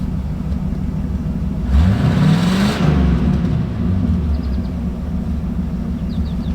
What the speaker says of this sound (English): Car's been running and warming up a little bit.